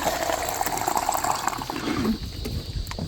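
Tap water running steadily as a child washes hands, a continuous splashing wash close by in a rural Philippine farmhouse, with faint background sounds throughout.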